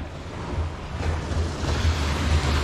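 Strong surf breaking on a beach in Davao del Sur, a steady low roar of waves with wind buffeting the microphone, swelling and easing without a break.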